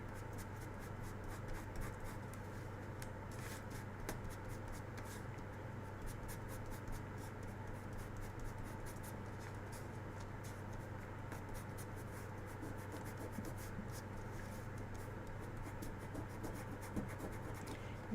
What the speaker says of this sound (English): Give it a burnish so it stays stuck.